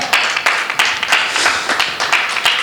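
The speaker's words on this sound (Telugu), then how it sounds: "చప్పట్లు కొట్టండి గట్టిగా." Church congregation clapping loudly in rhythmic unison, sharp repeated claps roughly every third of a second, close and dense.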